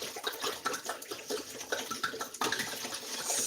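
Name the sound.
wine being poured into a pot for mulled wine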